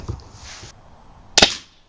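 A single sharp shot from an RTI Prophet air rifle, close and loud, following a brief softer mechanical noise, with a short decaying tail after the crack.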